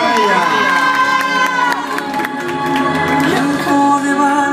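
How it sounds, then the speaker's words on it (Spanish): A crowd at a party dance floor cheers and shouts loudly, with excited children's voices rising over a bright, bustling roar that stays strong throughout. "Fuerte el aplauso para ella."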